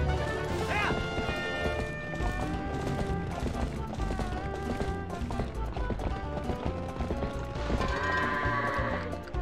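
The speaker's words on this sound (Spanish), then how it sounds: "Y esas pequeñas cabras estúpidas en el granero." Goats bleating in a barn in the video game The Legend of Zelda: Twilight Princess, heard over steady game music with hoof clatter and a person talking throughout.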